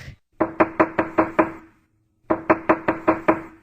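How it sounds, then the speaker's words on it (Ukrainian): A hammer knocking in two bursts of six sharp, rapid blows each, separated by a short pause, loud and close. "Стукає молоток."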